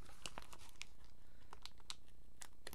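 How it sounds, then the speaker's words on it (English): Crinkly tearing and crackling as a sticker is peeled off its backing during a craft session, short irregular bursts close up with no talking. "Let's see if I can get this sticker up"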